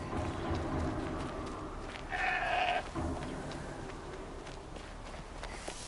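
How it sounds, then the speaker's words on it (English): A goat bleats in the video game Horizon Zero Dawn, one clear nasal cry in the middle over steady game ambience and footsteps. "Another goat."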